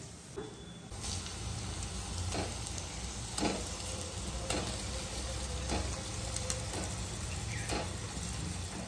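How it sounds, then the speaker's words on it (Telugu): Fish pieces fry in a hot masala, a dense, steady sizzle with periodic scraping stirs, close and continuous for the whole stretch with no talking. "మసాలా బాగా వేసిపోయింది కాబట్టి ఇప్పుడు ఇందులో చేప ముక్కలు వేసేస్తున్నాను"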